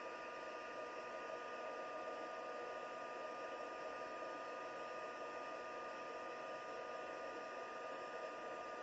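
An electric heat tool blows steadily while melting embossing powder for a craft project, a continuous even whoosh of hot air that stays close and loud for the whole stretch, with no talking over it.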